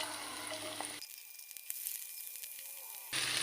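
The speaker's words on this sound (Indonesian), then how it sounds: "Kita tumis bawang merah, bawang putih" Shallots and garlic sizzle in frying oil with a faint, bright crackle that thins abruptly to near-silence midway before the hiss returns.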